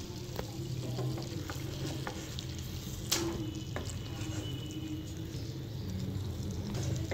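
Chicken leg pieces fry in a pan with a continuous close crackle and sizzle, overlaid by a few sharp clicks and the occasional clatter of a utensil, with no one speaking.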